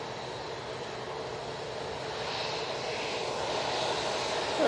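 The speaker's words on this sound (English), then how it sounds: "Here is the Emirates A380 returning back to Dubai." An Emirates Airbus A380 takes off from Manchester for Dubai, a brief, moderately loud engine rumble that rises steadily toward the end.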